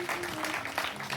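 Audience applause breaks out at a church service, a brief burst of dense clapping filling the hall over a faint sustained tone.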